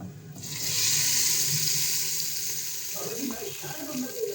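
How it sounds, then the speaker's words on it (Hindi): A loud hissing sizzle erupts as a hot cumin tempering is poured onto moong masoor dal, then settles into softer crackling and bubbling. "तड़का हमारा हो चुका है तैयार। हम डालेंगे दाल पे"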